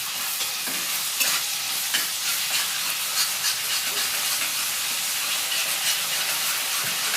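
Ginger garlic paste, added to fried onions in a pan while cooking chicken lazawab, sizzles with a loud, steady bright hiss close by, broken by faint stirring scrapes.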